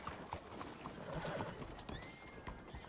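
Horse hooves clip-clop in a steady, irregular walk in Red Dead Redemption 2, with a short whinny partway through and another brief neigh near the end, over faint background ambience.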